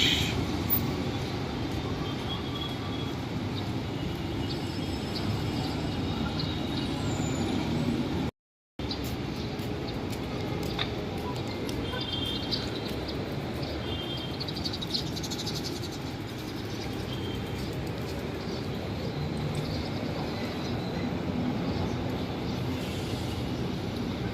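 Steady roar of heavy vehicle traffic on Quezon Boulevard in Manila, a dense, continuous wash of engines and road noise with a brief cut partway through, no voices over it.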